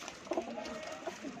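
Domestic pigeons kept for sale coo softly in low, rounded bursts, a couple of short calls close by over a quiet background hiss.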